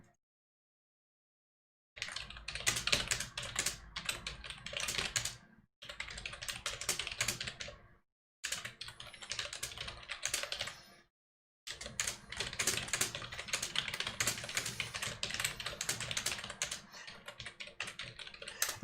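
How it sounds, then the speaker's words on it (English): Rapid keystrokes on a computer keyboard during a Total War: Warhammer II gaming session, in dense continuous bursts broken by a few short silent gaps, close and fairly loud with no talking over it. "I think the keystrokes are a little bit quieter now"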